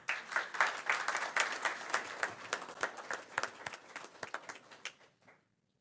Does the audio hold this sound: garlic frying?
no